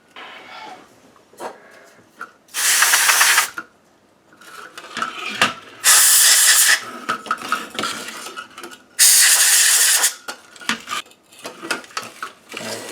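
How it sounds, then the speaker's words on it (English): Bursts of compressed air from an air duster spraying baking soda out of a Shark WV201 Wandvac handheld vacuum, three loud hissing blasts of about a second each, separated by quieter clicks and handling noise. "so I'm going to go get an air duster"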